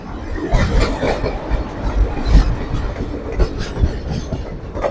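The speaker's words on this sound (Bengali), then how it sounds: "ওই যে কাশিম বাজার হয়ে যে ট্রেন ঢুকছে," Lalgola passenger train coming in via Kasimbazar to Berhampore Court station, a loud, close, steady rumble with rhythmic clickety-clack of wheels over rail joints throughout.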